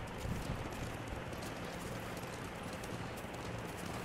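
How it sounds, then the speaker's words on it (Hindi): A horse gallops in the video game Ghost of Tsushima, its hoofbeats a quiet, steady rumble of clip-clop under a broad wash of ambient game noise, with no talk. "मेरा घोड़ा भी थक गया अब तो"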